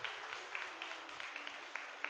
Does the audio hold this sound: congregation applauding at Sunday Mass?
yes